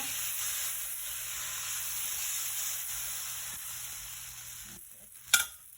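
Oil sizzling steadily on a hot griddle before dosa batter is poured, a close, even hiss that fades slightly before a brief sharp clatter near the end, with no talking.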